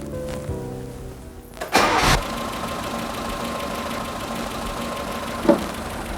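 Car engine cranks and catches during an ignition tune-up with dwell checking, a sharp start burst settling into a steady close idle drone with a brief knock near the end.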